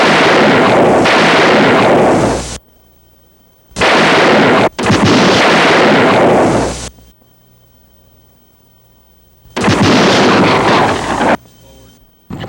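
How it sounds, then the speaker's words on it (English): Heavy, booming gunshot blasts in a gunfight effect, with three long bursts of sustained roaring fire separated by near-silent gaps, loud and close. "A general gunfight between the rival camps ensued."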